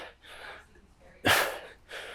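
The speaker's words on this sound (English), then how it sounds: "you guys can hear my breathing too" Quick, short breaths through the nose and mouth during log clean and jerks, close up, with one sharper sniff-like intake in the middle.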